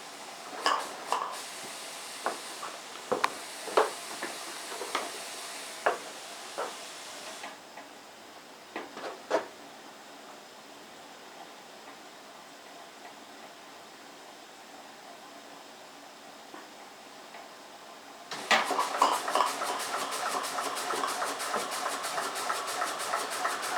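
A finished model steam engine runs on steam, making a steady rapid chuffing and mechanical clatter that grows louder and brighter toward the end, with faint voices now and then.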